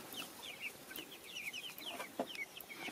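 Young chicks and hens cluck and peep in a farmyard, with a young rooster hatched in April among them; the high chirps come quickly and steadily over low clucks, close by and without talk.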